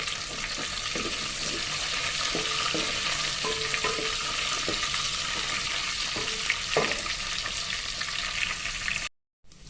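Curry leaves and spices sizzle steadily in hot oil for a dried anchovy curry, a loud constant frying hiss with faint stirring knocks, ending in a sudden brief cutoff.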